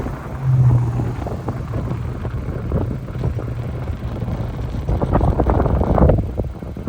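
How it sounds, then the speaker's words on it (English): Strong wind buffets the microphone beside a 2024 Honda Accord EX outdoors, a steady low roaring rumble with louder gusts near the start and end, no voices. "I'm not sure why the wind is blowing so crazy here"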